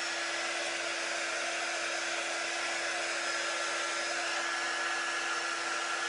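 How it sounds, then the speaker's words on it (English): A quick drying tool blows air onto a wet ink mat, a loud, steady, unbroken whooshing whine that holds constant from start to finish with nothing else heard. "But I use this quick drying tool for everything"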